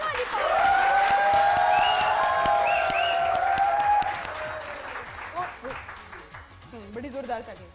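Audience applause on a TV Eid Milan show, a dense wash of clapping that swells loud for about four seconds over music and voices, then thins out as talk continues.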